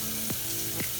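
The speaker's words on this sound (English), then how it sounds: "You want to fry them a little bit longer." Potatoes frying in olive oil in a hot skillet, a steady close sizzle and crackle with a couple of brief scraping stirs, no voices.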